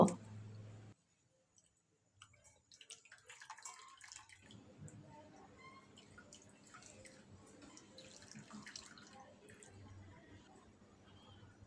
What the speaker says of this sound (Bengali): ছানাটা একটা সাদা সুতির কাপড়ে ঠেলে নেব ছানা থেকে জলটা খুব ভালোভাবে ছেঁকে নেব